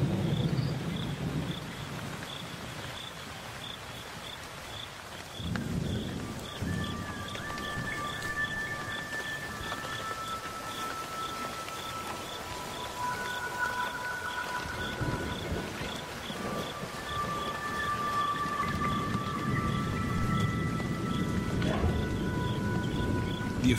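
A rainstorm with thunder in the Okavango: steady rain hiss and low rolling rumbles, with a faint, continuous high insect trill and scattered tonal calls running through it, with no voices.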